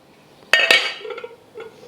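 Two sharp clinks of glass against glass, followed by fainter rattling and a softer knock as the dish settles.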